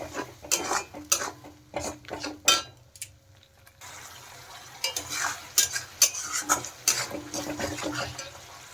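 Spoon stirring a blended yogurt and melon seed paste into a rohu fish curry, with rapid scraping and clinking against the pan in bursts, a short pause, then more steady stirring over a faint sizzle.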